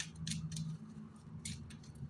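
Soft papery riffling and flicking in short bursts, close by, like cards being shuffled, with no voices.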